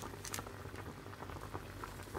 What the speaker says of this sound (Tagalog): ilagay natin itong noodles sa pinakuloan ng tubig